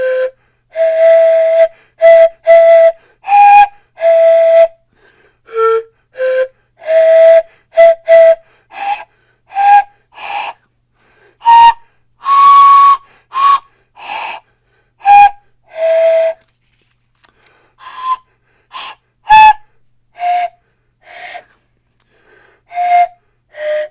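Short breathy whistling notes blown on an unusual pan flute, played loudly and alone in quick uneven bursts, moving between different pipes with frequent gaps and some airy, unsteady tones.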